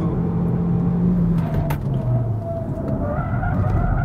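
Car on a fast track lap, likely an Audi A3 1.4, Chevrolet Cruze 1.4 or Honda Civic 1.5, running over grass with a loud close engine drone, tyre rumble and a brief skid, the engine pitch rising near the end.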